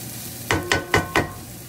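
Garlic and ginger fry in a pan for a sweet and sour sauce: a low sizzle under four quick, rhythmic scraping strokes of a spatula.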